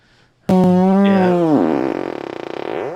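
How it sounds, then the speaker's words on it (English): Fart noise sound effect: a loud, buzzy, pitch-sliding blurt lasting over two seconds, starting abruptly, wobbling downward and breaking into a fluttering, sputtering tail, heard alone. "like the fart noise"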